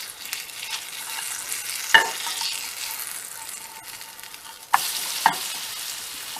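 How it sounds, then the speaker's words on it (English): Homemade banana peanut butter dog treats fry in a pan with a steady soft sizzle, broken by a few sharp scrapes and clacks as a spatula slides under and flips them. "that one's ready to flip. Make sure you get your spatula"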